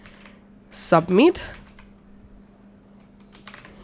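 Computer keyboard typing comes as a short burst of quick clicks near the start, set against a faint steady hum, while a voice speaks over it.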